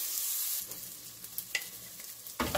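Onion and garlic sauté in a pan with a steady bright sizzle, broken by a few sharp stirring scrapes near the end, with no talking.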